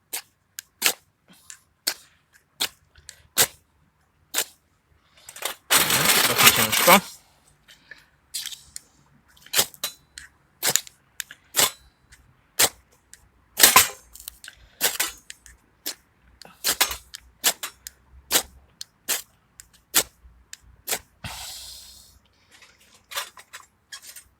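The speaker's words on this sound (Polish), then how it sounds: "tylko spróbujemy krzesiwem." A fire steel is struck over and over to light a PIRANA multi-fuel camping stove, giving sharp, scraping clicks in an uneven rhythm, with one longer rasping burst partway through, close and clear without talk.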